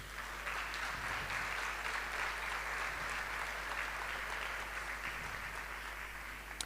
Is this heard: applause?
yes